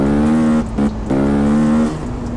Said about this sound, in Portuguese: Essa aqui é uma Titanzinha que eu montei. Motor da Twister 300.